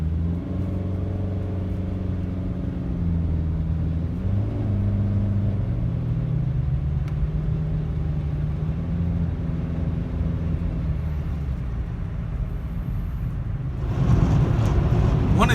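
A 2015 Chevrolet Spark's small engine drones loudly inside the cabin as it accelerates, its pitch rising steadily with a gear change partway through and a surge of noise near the end.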